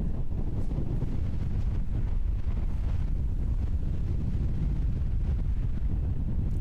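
Strong wind blowing across an open golf course, a constant heavy low rumble and buffeting on the microphone with no letup.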